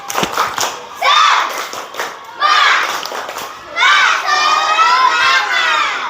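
A classroom of schoolchildren repeats a spirit clap chant in a poetry lesson, with a burst of rhythmic clapping followed by rising shouted chanting in unison that swells into loud, sustained cheering near the microphone.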